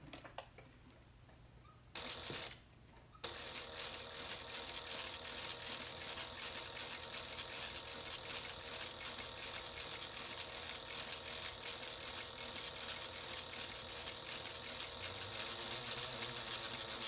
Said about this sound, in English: we're just going to top stitch the top of the pocket piece.